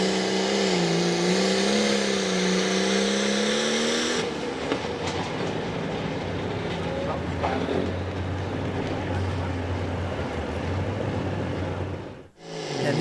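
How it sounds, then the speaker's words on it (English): A John Deere 4255 tractor in a tractor pull at an outdoor event screams at high revs with a rising engine whine, then turns into a rougher, sustained roar and rumble as it pulls, loud and close, ending in a sudden drop. "And next up's going to be Evan Hillegas, a John Deere 4255 from Berlin, Pennsylvania."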